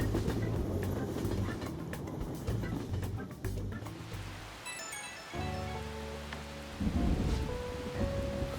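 Steady rain with rumbling thunder during a thunderstorm in Persona 5 Royal, a constant hiss broken by low booming rolls, with game music coming in partway.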